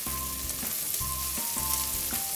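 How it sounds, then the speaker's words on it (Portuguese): Garlic fries in a pan, a steady close sizzle with crackling bursts and faint scraping, with no voices over it. "Eu coloco o alho primeiro, porque ele começa a fritar."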